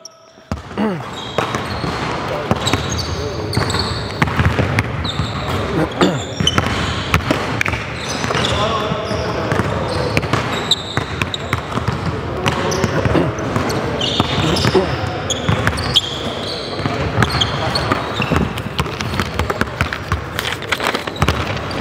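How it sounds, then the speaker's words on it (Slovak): Basketballs bang off a backboard and bounce on a hard court again and again during a team shooting drill, a dense irregular patter of thuds with voices calling out throughout. "musíte loptu hodiť o dosku a potom niečo urobiť"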